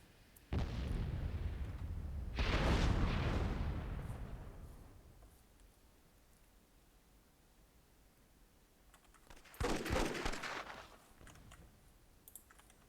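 Booming cannon fire in the strategy game Myth II Soulblighter during a tournament finals match: two loud, broad blasts a couple of seconds apart, each rumbling down slowly, then a third sharp explosion later after a quieter stretch.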